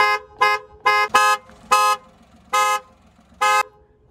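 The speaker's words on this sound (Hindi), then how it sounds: "हॉर्न अब मैं आपको आवाज़ सुना देता हूँ" A modified horn on a Maruti 800 beeps seven times in short, bright blasts with uneven gaps, loud and close, with a faint low engine rumble beneath.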